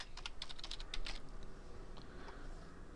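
Soft, quick keystrokes tap on a computer keyboard in a quiet room, a short burst of clicks followed by a few scattered presses.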